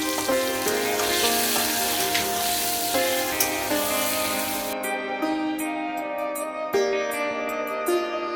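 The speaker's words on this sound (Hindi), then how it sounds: "आलू को नमक और हल्दी डाल के थोड़ा सा फ्राई कर लेंगे।" Two medium potatoes with salt and turmeric fry in a kadhai, giving a steady, close sizzle and crackle of hot oil that runs throughout with no talk.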